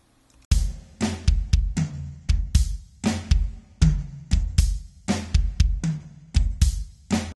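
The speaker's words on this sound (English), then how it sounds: "So if we listen to the first drum kit, it sounds like this." A drum kit plays a steady groove alone, punchy kick and snare hits in a regular repeating rhythm with crisp cymbal or hi-hat strokes, close and dry.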